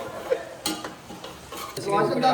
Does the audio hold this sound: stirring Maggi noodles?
yes